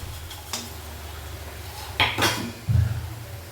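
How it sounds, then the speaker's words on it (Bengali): Chhana being stirred with patali jaggery in a metal pot for gur sandesh, with a spoon scraping and clinking against the pot in a few uneven knocks over a low steady hum, close by. "দিয়ে এভাবে নেড়ে নেড়ে সমস্তটাই কিন্তু খুব ভালো করে আমি মিশিয়ে নেব"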